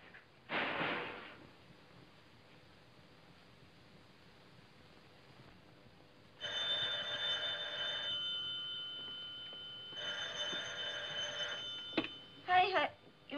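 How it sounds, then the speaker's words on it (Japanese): Old landline telephone ringing in a Japanese brothel setting, two long ring bursts of bright bell tone separated by a pause, fairly loud and close, with brief other noises between them. "夢ちゃん、電話よ。"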